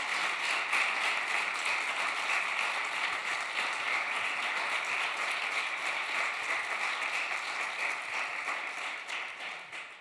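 Sustained audience applause for panel guests at a music panel, dense steady clapping from a crowd that holds for about ten seconds and starts to thin toward the end.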